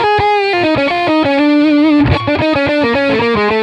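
A heavily distorted electric guitar plays a fast solo line with chromatic passing notes, loud and close with a brief low strum midway, no voices.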